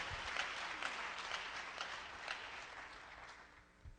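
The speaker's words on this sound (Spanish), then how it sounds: "Dele palmas al Señor de la gloria" A church congregation clapping in applause, a dense, steady wash of many hands at moderate distance, sustained for several seconds before tapering off, with no speech over it.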